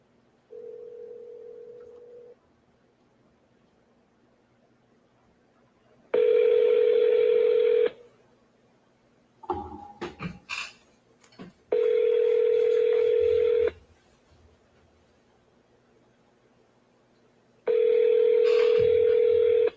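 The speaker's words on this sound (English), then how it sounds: "At the tone, please record your message." Phone call forwarded to voicemail, with a steady pure beep tone repeating four times in long sustained blocks, some joined by broader dial-tone-like layers, plus a brief burst of clicks and noise between them.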